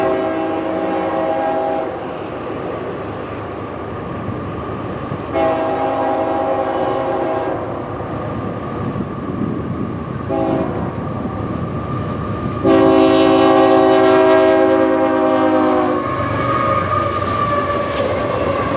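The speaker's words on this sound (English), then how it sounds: "M364 comes through with a massive train for Selkirk." A long freight train, M364, passing at Palatine Bridge in upstate New York, with loud blasts of its multi-tone horn repeated over the steady rumble of rolling railcars.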